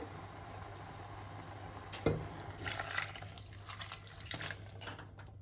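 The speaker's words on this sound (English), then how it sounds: "now I uh, am adding one glass of water" Water pours and splashes in a brief, faint stream, trickling for a few seconds in a quiet room.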